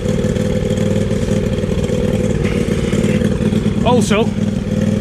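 A tractor engine runs steadily at a woodland clearing with a bonfire, its low rumble constant throughout while someone talks over it.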